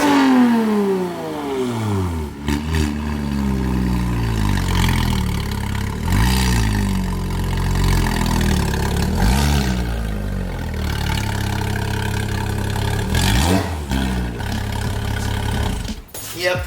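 A Porsche engine with Soul headers revs hard again and again through a loud, throaty exhaust, each rise and fall of the pitch clear and close, with bursts of voices between.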